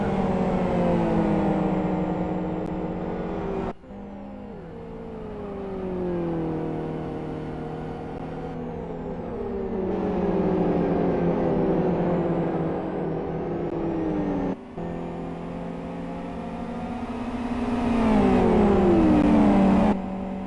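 Race car engines roar in the Live for Speed sim during a 24-hour endurance event at Aston GP, with steady close engine drone rising and falling through gear shifts and rev sweeps over about twenty seconds.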